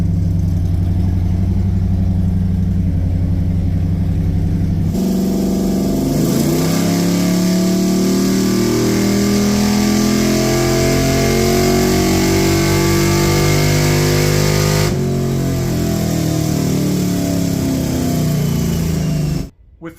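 Gen2 LT1 350 small-block V8 with a Summit 8801 cam running hard on a chassis dyno, a loud sustained roar that climbs in pitch through a long pull, then drops back and cuts out at the end.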